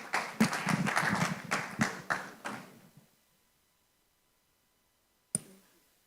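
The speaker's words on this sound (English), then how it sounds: "Please, let's give them a round of applause." Applause from a conference audience, a short burst of clapping by a modest crowd that fades out after about three seconds, followed by silence and one sharp knock.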